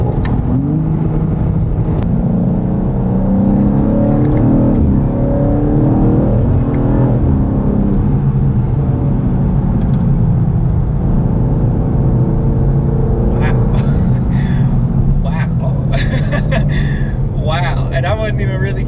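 Engine of a 2025 BMW M2 in manual mode hums and builds under acceleration from inside the cabin, a steady low drone with rising revs, while a person talks over it for much of the stretch.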